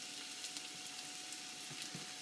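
Mushrooms, onions and garlic fry in a pan for a pork Geschnetzeltes, giving a steady, soft sizzling hiss with faint crackles and no talk.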